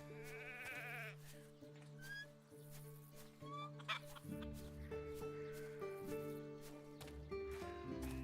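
Chickens cluck and bleat-like calls sound inside a barn in the farming game Travellers Rest, several short repeated animal calls over a steady tonal music bed.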